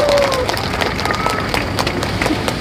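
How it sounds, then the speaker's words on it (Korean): Crowd at an outdoor street rally in a Busan plaza near Nampo-dong station claps steadily and loudly for a speaker, dense applause throughout with a faint tone drifting over it. "박수로 환영해 주십시오"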